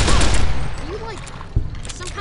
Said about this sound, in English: Why are these guns so loud?